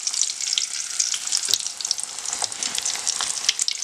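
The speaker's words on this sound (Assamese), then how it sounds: "এয়া মই চিৰাকেইটা এনেদৰে ভাজি লৈছোঁ।" Flattened rice (chira) fries in hot refined oil in a kadai for a quick snack mixture, a close, continuous bright sizzle with crackling pops and occasional stirring scrapes.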